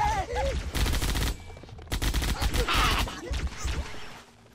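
Rapid automatic gunfire and melee hits from the video game Halo: Combat Evolved, loud dense bursts of shots in two main volleys with game effects, fading toward the end.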